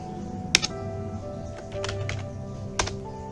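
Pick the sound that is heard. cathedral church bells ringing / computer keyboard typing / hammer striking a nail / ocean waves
computer keyboard typing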